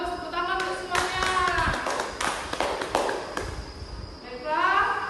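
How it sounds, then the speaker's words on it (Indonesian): Elementary school classroom applause for student groups: a class claps in uneven bursts of hand taps, close and moderately loud, with voices talking over and between the clapping. "tepuk tangan untuk semuanya"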